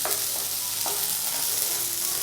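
Peanuts roasting and being stirred in a pan over a medium flame, a soft continuous sizzle with a few scraping stirs, close and fairly quiet, no voices.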